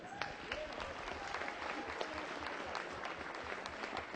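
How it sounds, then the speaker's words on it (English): An audience applauds Stage One Productions performers at an afternoon show, dense steady clapping sustained throughout at moderate level with a faint voice or two mixed in. "would you please give a huge round of applause to all of the Stage One production performers this afternoon?"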